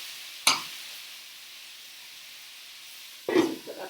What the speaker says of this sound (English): your vegetables and mushrooms are all starting to cook